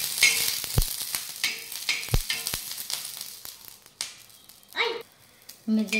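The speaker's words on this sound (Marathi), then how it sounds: "आता मिरच्या भाजण्यासाठी टाकू" Green chillies roast in a pan with a crackling sizzle and sharp pops, mixed with clanks of a spoon against the pan and stretches of brief talk.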